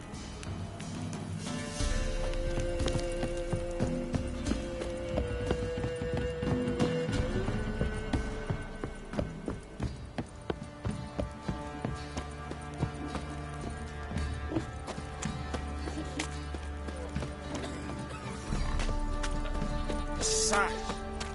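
Video game horses trot along with a steady clip-clop of hooves under continuous music and background sound, with brief whinnies near the end.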